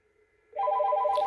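A Yealink T54W desk phone plays its calling tone after putting a first call on hold and dialing another phone. A steady, evenly pulsing electronic ring starts abruptly after a short quiet moment and continues clearly to the end, with no talk.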